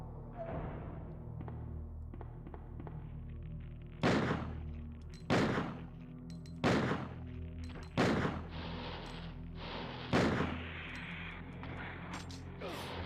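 An upgraded shotgun in Resident Evil 2 on the N64 fires five loud booming blasts about one to two seconds apart, each with a short decay. Quieter game noises and a low background hum fill the gaps between shots.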